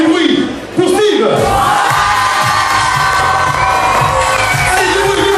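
An audience at an evening show at a campsite cheering, whooping and shouting loudly after a brief dip, a dense sustained roar of many voices, adults and children together.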